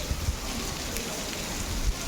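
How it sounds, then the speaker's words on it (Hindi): Heavy rain falls outside a home as a steady, broadband hiss of drops on surfaces, continuous and moderately loud for the whole stretch, with no voices. "बाहर देखो कितनी तेज़ बारिश होने लग गई है।"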